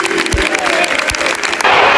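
A dense football crowd at a Man City versus Bournemouth match clapping and cheering together, steady and loud throughout, with scattered shouts in the mix.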